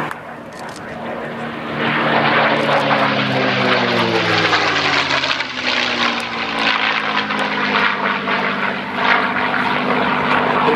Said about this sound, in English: Here comes Mark Levy in P-51 Jersey jerk